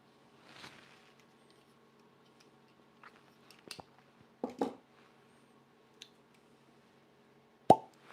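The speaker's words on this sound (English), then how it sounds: "nice cork pop." A cork pulled from a whiskey barrel gives one sharp, hollow pop near the end, after scattered faint clicks and handling noises in a quiet room.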